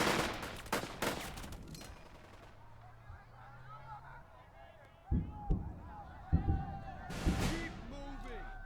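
Gunfire in the Burden of Command video game, a WWII combat setting in the Casablanca suburbs: clusters of sharp shots and bursts early, then scattered reports with background battle noise, heard under spoken commentary.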